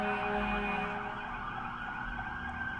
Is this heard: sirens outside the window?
yes